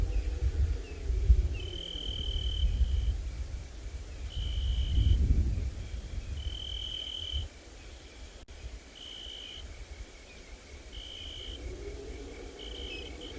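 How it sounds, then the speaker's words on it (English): Cicadas and crickets call at sunset on a safari reserve, with a high, pulsing insect buzz repeating in regular bursts over a faint low rumble of wind, distant and steady with no talking. "We can hear some cicadas off in the distance, busy calling, and various other types of crickets"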